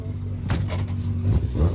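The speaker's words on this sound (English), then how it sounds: "The JSN Plumbing and Heating rear-wheel drive Peugeot 205 is doing the business" A rear-wheel drive Peugeot 205 rally car on an asphalt rally stage, its engine revving loudly and close by in a short continuous burst with some clattering, nobody speaking.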